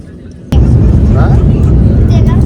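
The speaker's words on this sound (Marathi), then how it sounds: "सो आता टेकऑफ होते." Passenger airplane taking off at full speed in icy winter conditions, a sudden loud surge into a steady heavy engine roar heard from inside the cabin, with people talking over it.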